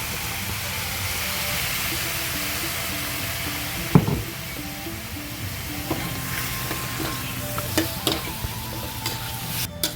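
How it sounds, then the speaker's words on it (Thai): Pork being stir-fried with spice paste in a pan, a continuous loud sizzle and hiss with occasional scraping stirs and clinks close by. "หลังจากที่เขาคั่วเครื่องกับหมูจนมัน"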